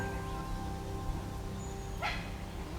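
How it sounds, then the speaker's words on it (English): During an outdoor walk, a dog gives one short bark partway through, set back in the background over a low, steady outdoor hum. "And we also have the dog in the background"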